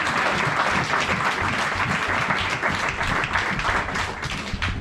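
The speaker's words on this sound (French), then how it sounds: "Acclame très très fort Jésus." A church congregation applauds loudly and steadily, a dense wall of clapping from many hands that keeps up its pace without pause.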